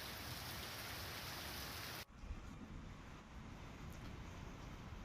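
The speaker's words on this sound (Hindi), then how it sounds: "तो कई इलाकों में झमाझम बारिश की सीधे तस्वीरें आपको दिखा रहे हैं।" Heavy monsoon-style rain pours in northern India, a dense, loud, continuous hiss that shifts briefly partway through and then carries on without letup.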